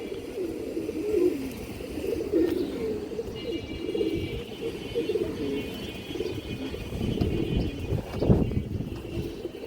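Low, soft cooing from Indian high-flyer pigeons murmurs continuously up close, with faint rustling and a thin background hum.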